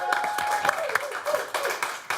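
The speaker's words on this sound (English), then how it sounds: "Let's have a round of applause, please, for Jose the Comedian." Studio audience applauds a comedian named Jose, a broad wash of clapping that rises and falls with sharper bursts, fairly close and steady for a couple of seconds.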